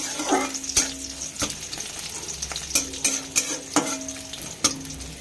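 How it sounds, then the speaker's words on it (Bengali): Green chilli mash fries in a pan for a raw banana peel bharta, with a soft sizzle under repeated sharp clacks and scrapes of a spatula stirring against the pan. "এটাকে আমি একটু ভাজা ভাজা করে নেব"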